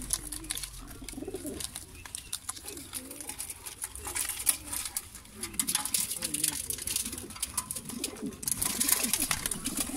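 Several pigeons coo in low, throaty, overlapping calls nearby, with soft rustling and pattering in the background.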